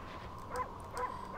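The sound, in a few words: dog barking in the video game Okami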